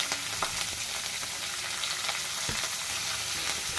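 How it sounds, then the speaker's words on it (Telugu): Garlic, green chillies, curry leaves and onions fry in hot oil for potato fry, giving a steady, dense sizzle with occasional crackles and soft stirring scrapes, close and continuous, no voices. "ఆనియన్స్ అనేవి బాగా ఫ్రై అవ్వాలన్నమాట"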